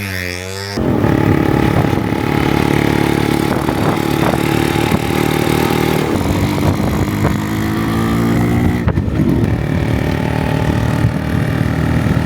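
A restored Yamaha RX 100 motorcycle engine runs steadily and loudly after a brief quiet start, with a constant buzzing drone and slight rises in revs throughout.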